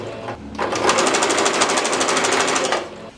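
A sewing machine stitches fabric for a plush teddy bear, a close, loud burst of fast rapid-fire needle chatter lasting a couple of seconds before winding down.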